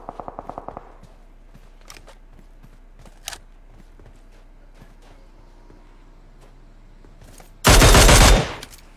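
Video game gunfire in a tournament match: a short rapid burst of shots at the start, scattered single shots and footsteps, then a loud sustained automatic volley near the end.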